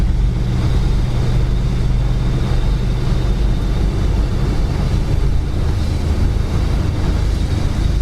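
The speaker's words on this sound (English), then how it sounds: "listen to it inside the car here. Very, very little wind noise inside this car." Steady low road rumble and faint wind hiss heard from inside a 1964 Chevrolet Impala driving on a windy day, a constant even drone with no talking.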